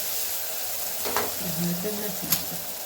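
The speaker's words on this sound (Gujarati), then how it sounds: "કુકર બંધ કર્યા પહેલાં હલાવી નાખવાનું" Galka (sponge gourd) curry being stirred in a pressure cooker with red chilli and salt added, giving a soft sizzle with a couple of brief scraping stirs, close and moderately quiet.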